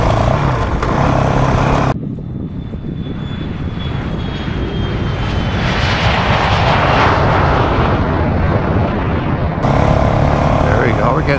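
Honda CRF450RL dual-sport motorcycle engine during an adventure day ride, a continuous droning roar with wind buffeting that dips briefly and swells again, loud and close, with another bike riding ahead.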